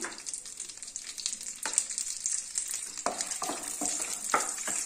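Chopped almonds are stirred in a pan over low heat for protein laddoos, with soft sizzling and repeated scraping strokes close by.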